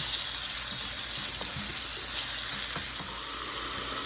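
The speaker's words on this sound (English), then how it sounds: "So now we're gonna add carrots. We're just gonna let it caramelize." Carrots fry and caramelize in hot oil in a pot, a loud steady sizzle with bubbling crackles and occasional stirring knocks, close and constant with no talk.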